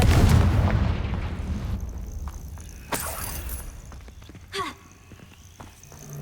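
A Confringo fire spell in Hogwarts Legacy lands with a heavy booming blast that fades into rumbling debris, followed by a sharper crack and a smaller impact, with no spoken words.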